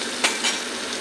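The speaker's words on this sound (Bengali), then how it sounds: "পেঁয়াজে হালকা করে একটু ভাজা করে নিই।" Chopped onion frying in a pan with whole cumin and bay leaf, a steady soft sizzle with two brief louder stirring swishes, close and alone.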